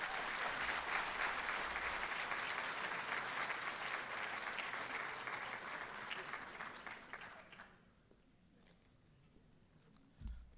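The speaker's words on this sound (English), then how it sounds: "I would like to introduce, before you clap, the legend itself, Dr. Charles Modica" An audience applauds at a medical school white coat ceremony, a loud, dense wash of clapping that carries for several seconds, then fades and stops, with a brief thump near the end.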